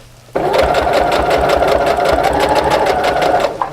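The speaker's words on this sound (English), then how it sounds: "we're just going to go ahead and stitch" A sewing machine stitches cording into a fabric pillow cover with a fast, even mechanical chatter, loud and close, starting abruptly and running steadily throughout.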